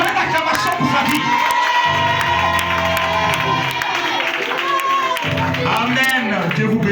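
A church congregation cheers, whoops and claps during a testimony service, loud and sustained, mixed with crowd voices and background music.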